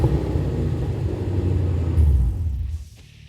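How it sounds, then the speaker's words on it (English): A Mustang GT fitted with long tube headers, a catted X-pipe and an axle-back exhaust lets out a loud, deep, raspy roar that swells near the end and then fades as the engine drops back. "that is very loud, very aggressive sounding exhaust"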